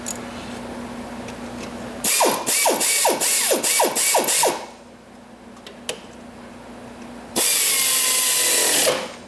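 A power driver runs bolts in around the retainer ring on an Ariens Emperor mower with a Briggs & Stratton V-Twin, giving loud whirring bursts with rapid ratcheting clicks, a pause with a faint hum, then another long whir.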